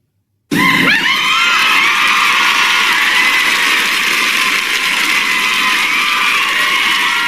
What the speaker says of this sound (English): with a huge round of applause, let's spotlight Dr. Heena